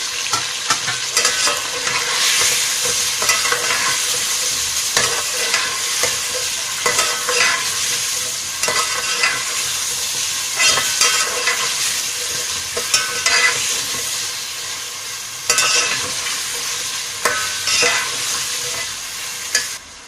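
Potatoes stir-fried in masala for Sindhi biryani, a loud, constant sizzle broken by repeated spoon scrapes and stirring knocks against the pot, close and with no voices.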